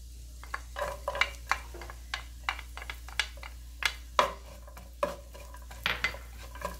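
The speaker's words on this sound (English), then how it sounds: "just focus on browning these onions a little bit" Onions frying with garlic and ginger in a pan, a spatula scraping and tapping in a steady rhythm of distinct strokes over a quiet sizzle and a low hum.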